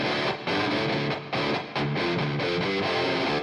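Heavily distorted electric guitar through a Mesa Dual Rectifier amp simulation with a TS-808 Tube Screamer chugs through a dense, saturated riff, loud and close, with brief choppy gaps between palm-muted bursts.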